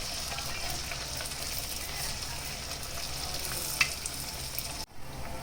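Wheat donuts fry in hot oil with a steady, close crackling sizzle throughout, broken by a faint clink near the end.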